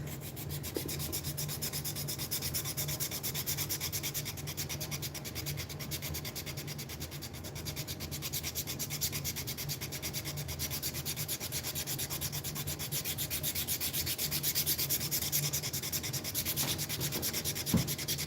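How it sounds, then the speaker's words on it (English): Light hand sanding of a sticky epoxy-coated surface, a continuous close rasping rub in rapid even strokes that keeps up without pause for the whole stretch, with no talking. "And we can put a little light sand on it."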